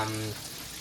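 Steady crackling sizzle of chicken fried steak deep frying in hot grease, with a brief low hum at the start, fairly close and moderately loud.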